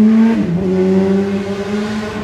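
A modified Suzuki motorcycle engine with adjusted throttle and fueling revs close and loud, its tone dipping then rising into a sustained, steady pitch over a couple of seconds.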